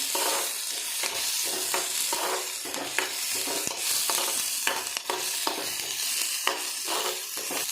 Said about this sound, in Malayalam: ഇനി നമുക്ക് വാളംപുളി ഇട്ട് കൊടുക്കാം നന്നായി മിക്സ് ചെയ്യാം